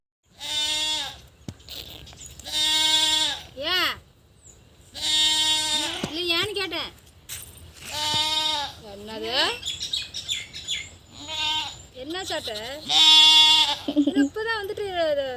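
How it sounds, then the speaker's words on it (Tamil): Goats bleat repeatedly nearby, a series of loud wavering calls with short pauses between them, while people talk in the background. "குட்டி போட்ட ஆடு மாதிரி ஆடு இரு வேற இரு ஆடு இன்னும் பால் குடிக்க விடுது போல இருக்குது"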